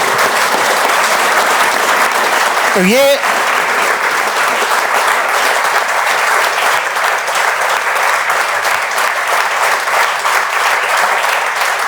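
Loud, sustained applause from a group of children welcoming a student into a coaching-centre library, steady clapping throughout with a brief voice near the start.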